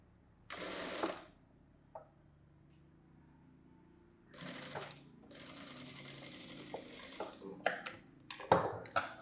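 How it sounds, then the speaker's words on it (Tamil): A sewing machine runs long, loose basting stitches on a boat-neck saree blouse in short bursts of rapid mechanical whirring, close and clear, separated by pauses and clicks. "இப்போ நான் சும்மா ரஃப்பாக வந்து ஒரு பெரிய தையல் வச்சு நான் போட்டுறேன்."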